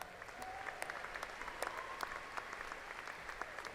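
Steady applause from a commencement audience honoring graduates at Angelo State University's fall ceremony, a dense, even wash of many hands clapping throughout, heard from a distance.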